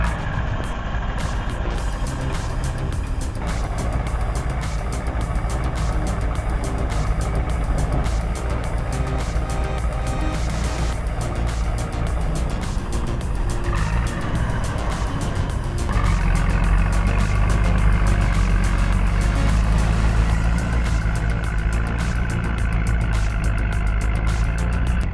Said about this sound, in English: This TDT 55 crawler tractor chews through mud and bog like it's built for it, because it is